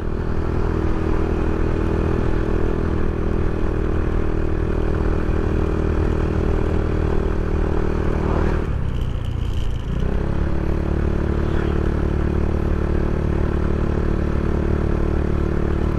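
Motorstar Easyride 150CL motorcycle riding on a road, its steady engine drone loud and continuous, with a brief dip and swell as it overtakes, likely another vehicle, midway through.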